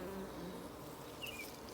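Almost black Carniolan honey bees buzz steadily at the hive, a continuous close, dense hum of many wings that stays even throughout the brief moment.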